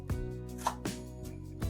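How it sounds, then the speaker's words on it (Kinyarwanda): A knife chopping pineapple into small pieces on a board, four or five crisp, evenly spaced cuts, close and fairly quiet, with no talking. "Hanyuma iyi pineapple yacu tuyikatemo uduce dutoya."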